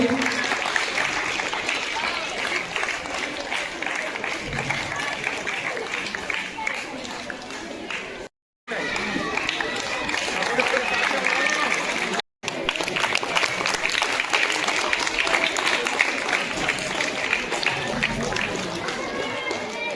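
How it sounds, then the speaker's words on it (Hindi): Sustained, loud clapping from an audience at a school teaching-aids fair ceremony, a dense, even wash of many hands lasting the full stretch, broken only by two brief dropouts, with chatter and movement mixed in. "एक जोरदार ताली।"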